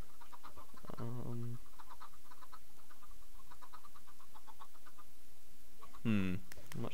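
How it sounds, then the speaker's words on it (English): Minecraft chickens give short, stacked clucks in two brief bursts, one near the start and one near the end, over quiet game background. "What's with all the chickens?"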